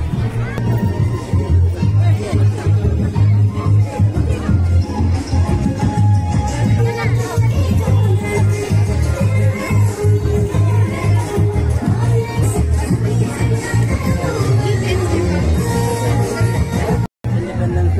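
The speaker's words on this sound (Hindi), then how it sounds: "इंडिपेंडेंस डे मनाने के लिए आज पूरा भीड़ भाड़ है।" A crowd gathered for an Independence Day celebration on 15 August: steady loud babble of many voices with music, nearby talk throughout, unbroken for the whole stretch.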